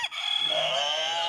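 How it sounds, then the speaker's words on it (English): A rooster crows loudly and close by, one sustained cock-a-doodle-doo call that rises and holds for over a second with no talk over it. "That's the rooster for Pebbles."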